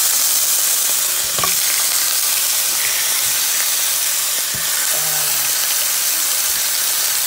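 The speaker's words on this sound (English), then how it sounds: "And now I'm going to put my meat in." Beef and diced onions sizzle loudly in warm oil, a dense close frying hiss with occasional scraping and clinks from stirring, no talk over it.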